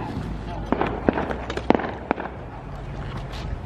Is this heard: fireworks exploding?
yes